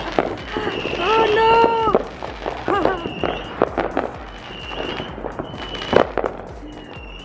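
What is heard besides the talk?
fireworks set off by neighbours on the Fourth of July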